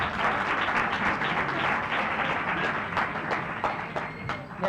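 Audience applause at the close of a seminar talk on clinical errors, a broad steady clatter of many hands clapping throughout, fairly loud and sustained, easing slightly toward the end.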